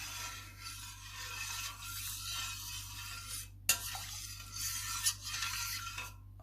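A spoon stirs yogurt starter into milk in a bowl at home, a soft scraping swirl rising and falling with two brief clinks against the rim, quiet and close.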